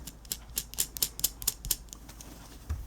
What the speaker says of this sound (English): I can remove the hoop.